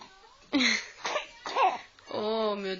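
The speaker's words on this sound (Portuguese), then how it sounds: "Essa tosse não vai embora não, filho?" A child coughing at night, several close, harsh coughs in a row with short pauses, mixed with throaty voiced sounds.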